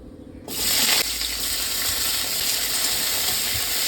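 Vegetables drop into hot mustard oil in a pan and set off a sudden loud sizzle, which keeps frying steadily and close.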